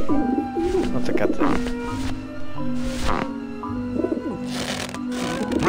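Pigeons coo in the video game Grim Fandango Remastered, with repeated throaty warbling calls close by, heard in bursts across several seconds under a steady background drone and tonal music.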